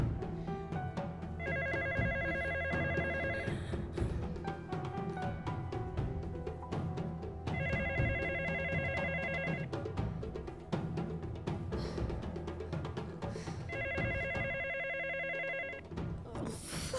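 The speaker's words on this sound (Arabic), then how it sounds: "ردي على التليفون" A telephone rings in three separate bursts of rapid trilling, spaced about six seconds apart, over quiet background music in an indoor drama scene.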